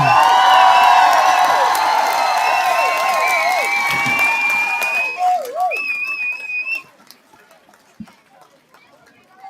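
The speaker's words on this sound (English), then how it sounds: "Let's give Ryan a round of applause for the WNBA and the NBA" Crowd cheering and applause for Ryan, rowdy and loud with whistle-like squeals over a dense roar, then cutting off sharply after about seven seconds to leave scattered faint noises.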